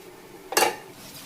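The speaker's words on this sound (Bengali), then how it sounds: "ঢাকনাটা খুললে" A lid lifted off a cooking pot: one brief metallic clank and scrape near the middle, close, over faint quiet background with no talk.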